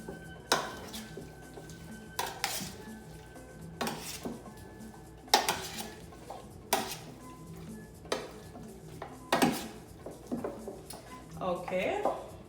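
Ginger and seasoning are mixed in a bowl, with a spoon scraping and clinking against the dish in repeated bursts while someone speaks quietly in between.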